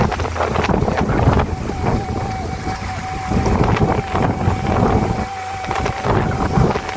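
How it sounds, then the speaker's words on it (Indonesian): Strong wind roars steadily across the microphone in a village below a mountain slope, a loud continuous gusting rush with a faint tonal hum running through it and no talk. "Wah, besar banget loh anginnya."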